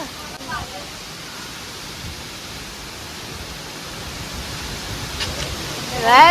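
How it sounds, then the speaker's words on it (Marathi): Heavy evening rain pours steadily outside a house window, a dense continuous hiss that builds slightly toward the end, with a brief faint voice near the close. "जोरदार पाऊस आहे रे बाबा"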